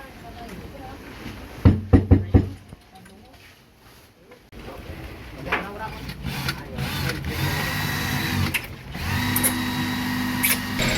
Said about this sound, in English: shoot screws into this other form, creating a corner right there